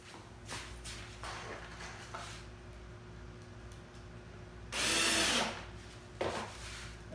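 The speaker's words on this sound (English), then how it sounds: "Go through and drill pilot holes in all these too." A power drill bores pilot holes into the wooden panels of an air supply box for a flow bench, with one loud sustained burst near the middle and a short one near the end over a quiet workshop background.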